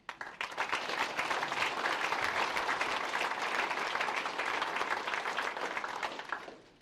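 An audience at a team kickoff event applauds, a dense, even burst of clapping that swells quickly, holds for several seconds and then tapers off.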